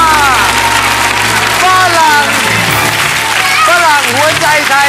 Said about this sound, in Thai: เราเสียงปรบมือกับเด็กๆด้วยครับ